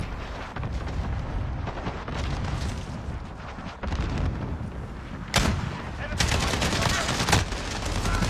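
Shotgun fire and other gunfire in an online shooter game, heavy booming blasts that come in bursts and grow denser and louder toward the end, with a player talking over parts of it.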